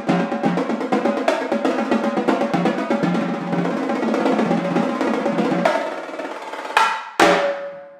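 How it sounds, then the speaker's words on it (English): Marching tenor drums played in a fast, dense run of sharp tonal hits across several drums, loud and close, ending with a few isolated accented strikes that ring out. "These are marching tenor drums."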